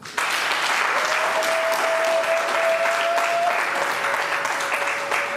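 Loud, sustained applause fills a civil wedding ceremony at a registry office as the couple are declared husband and wife, with dense clapping from a close crowd and a faint steady tone underneath.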